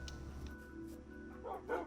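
A video game dog, a small cute wolfos, barks and yips in a few short bursts, quiet and fairly close, with a faint steady tone underneath.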